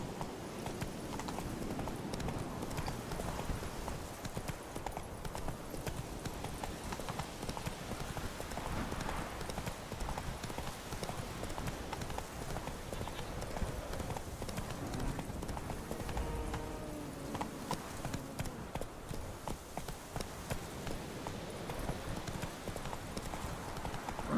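Roach, Geralt's horse in The Witcher 3, gallops in a steady rapid clip-clop of hooves that runs continuously and loudly throughout, with game music and ambience underneath.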